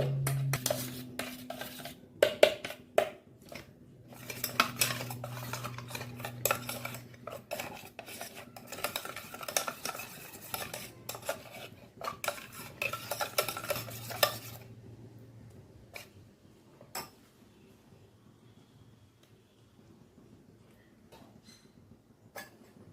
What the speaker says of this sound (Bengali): সর্ষে বাটা কিংবা সর্ষের তেল দিয়ে দেবেন এবার ভালো করে মিশিয়ে নেব